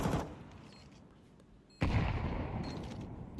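MAC-10 submachine gun fire in Counter-Strike 2 during an esports match, loud dense bursts of rapid shots that open the clip, fade, then erupt again and keep going.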